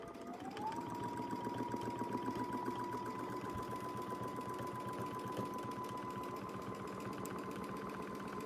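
A sewing machine stitches steadily through fabric with a quilting ruler foot in place, running as a continuous close mechanical whir with a rapid needle rhythm that lasts throughout, no voices over it.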